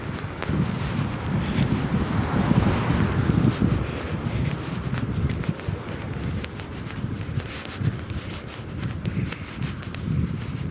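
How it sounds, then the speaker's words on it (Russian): Strong outdoor wind buffets the microphone, producing loud, uneven rumbling gusts and rubbing noise that swell and ease without letup. "Гребаный ветер все портит."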